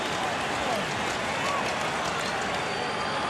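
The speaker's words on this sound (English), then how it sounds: "You can hear the crowd here, Bob, just chanting for some defense" A basketball arena crowd at the 2000 NBA Finals between the Lakers and Pacers chants for defense, a steady, full roar of many voices filling the hall at moderate loudness throughout.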